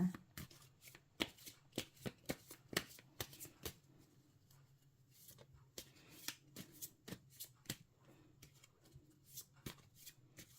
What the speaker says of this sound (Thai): ขอเป็นตัวแทนสับไพ่ตัดไพ่ให้คนเกิดวันพฤหัสนะคะ